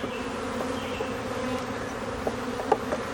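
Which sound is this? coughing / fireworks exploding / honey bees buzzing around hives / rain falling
honey bees buzzing around hives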